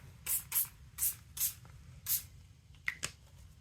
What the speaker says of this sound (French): c'est rapide et efficace de mettre en couleur avec des encres en spray